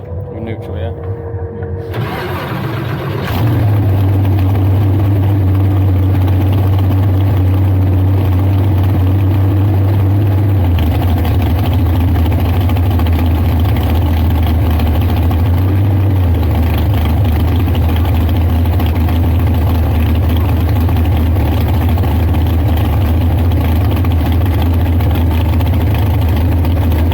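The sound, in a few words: Super Comp drag race car engine started and idling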